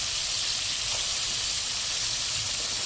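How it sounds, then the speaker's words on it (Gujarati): Shark fish masala with chillies and salt cooks in hot oil, giving a loud, even, continuous hiss close by, with no break. "અને આપણે પકાવવાનું છે તેલમાં."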